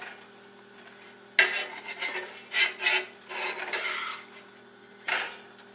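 Pork chops being flipped in a frying pan make a few scraping, rasping utensil strokes against the pan. They come as separate bursts over a quiet background with no talk.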